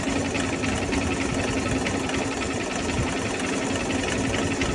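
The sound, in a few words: Bajaj Platina motorcycle engine running with noise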